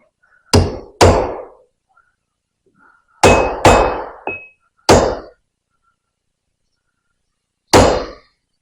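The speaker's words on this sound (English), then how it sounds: "I'll double check it with a metal hammer." A metal hammer strikes metal with sharp ringing clangs, roughly seven taps in uneven groups with quiet gaps between, close and loud, tapping a seal into place on a Vickers vane pump cartridge.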